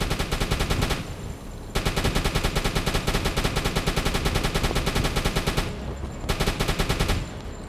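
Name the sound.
AA gun firing on a ship in the video game Uboat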